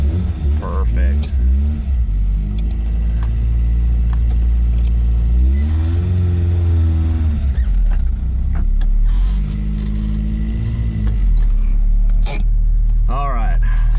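A Toyota AE86 showcar engine cranks on a newly installed starter, catches and settles into a loud, close idle with a few revs, while a person talks over it.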